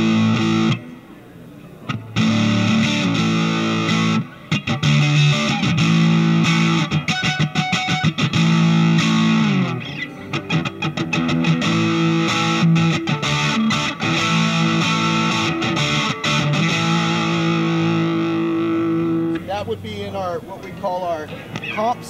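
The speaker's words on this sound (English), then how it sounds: "I'm going to go ahead and engage our slacker unit." Electric guitar played through the slacker setting of a Mu-FX Boostron 3 effects unit, a loud, dense synth-like tone with strummed chords and riffs that continue steadily, ending in a short run of quick picked notes.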